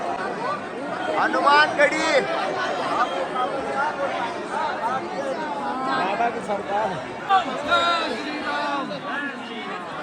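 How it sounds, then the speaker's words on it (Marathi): A large, pushing crowd of pilgrims at Hanumangarhi temple in Ayodhya produces continuous close babble and overlapping voices, with one voice briefly speaking above the din. "गर्दी प्रचंड अशी गर्दी आहे"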